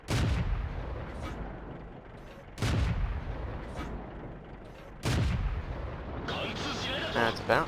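Tank cannon fire in World of Tanks with a Type 5 Chi-Ri: three loud, booming shots spaced a few seconds apart, each with a rumbling tail, followed by a sharp metallic ring of a shell bouncing off armor.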